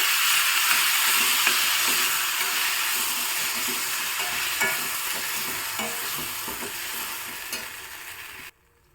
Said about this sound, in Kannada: ಈಗ ಮೆಣಸು ಚೆನ್ನಾಗಿ ಫ್ರೈ ಆಗಿದೆ